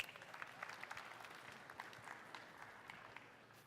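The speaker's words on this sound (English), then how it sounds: "Let's give him a round of applause." Audience applause for a guest at a clinical lecture, a dense burst of clapping from a crowd filling the room, steady and moderately distant, fading slightly toward the end.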